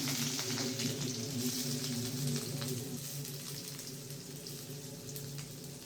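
Onions sizzle in oil in a pan on a home stove, a soft steady crackle and hiss with faint scattered pops, mostly alone at low volume.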